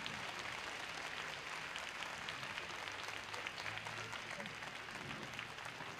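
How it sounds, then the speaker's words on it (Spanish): A large audience at a 1981 concert at Estadio Obras claps steadily, a faint, distant, continuous wash of applause that neither swells nor fades. "adelante los dos, un aplauso muy fuerte."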